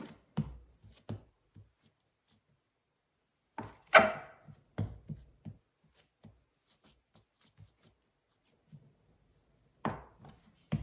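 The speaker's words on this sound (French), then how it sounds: "vais la diviser en 4" Chebakia dough cut into four pieces on a work surface, a few close, dry knocks and scrapes spaced apart with quiet gaps between, no voices.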